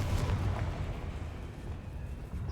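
Bombarda blasting spell in Hogwarts Legacy going off as a loud, rumbling explosion, a dense booming burst that decays over a couple of seconds with a second thump at the close.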